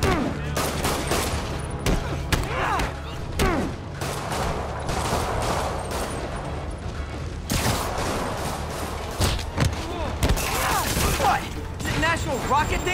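Rockets fired in Marvel's Spider-Man, a dense barrage of sharp blasts and bursts of gunfire crowding together over about thirteen seconds, loud and continuous, with a voice speaking briefly amid the chaos.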